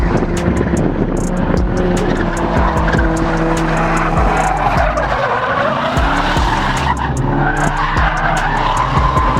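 Stock Nissan 240SX drifting: tires squeal and skid continuously under a loud, sustained engine roar held at high revs, close and unbroken throughout.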